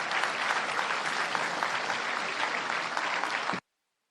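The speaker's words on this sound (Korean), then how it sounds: "예, 다시 한번 커다란 박수 부탁드리겠습니다." A church congregation gives loud sustained applause at an anniversary and dedication service, thick continuous clapping from a large crowd that stops abruptly.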